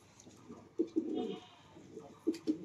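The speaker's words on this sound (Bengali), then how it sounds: "এই দেখেন কালাঙ্গা পায়রা, এটা নর হচ্ছে, এটা মাদি" A pair of Kalanga pigeons, male and female, give soft throaty coos in short bursts, a longer rolling coo early then two quick coos near the end, close by and alone without talk.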